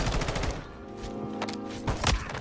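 Gunfire in Warzone 2, with several sharp shots and bursts over a steady game-ambience bed, the heaviest cluster near the end, and no talking.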